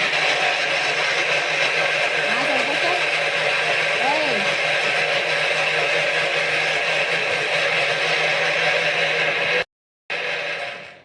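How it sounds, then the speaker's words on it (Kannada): Mixer grinder (mixie) blending chicken with onions and tomatoes, a steady high-pitched whirring drone running for about ten seconds, then cutting off briefly before starting again; a voice talks faintly over it. "mixie ಹಾಕ್ಲತ್ತೇನ್ರಿ mixie"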